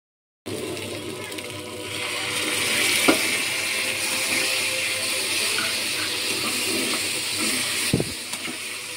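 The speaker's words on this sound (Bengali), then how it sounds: "এর মধ্যে অল্প সামান্য জল দিয়ে দেবো।" Water poured into a pan of frying crab masala, a continuous hissing sizzle that swells as the liquid hits the hot pan, with a sharp clatter near the end; no talk.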